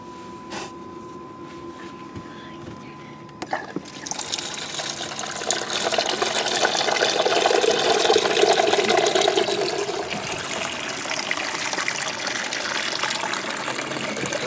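Water gushes steadily through a homemade gold processing rig, an oil pan with a hole cut in the middle resting on two 2x4s, draining into a bucket below; the flow starts abruptly after a quiet moment and continues loud and constant.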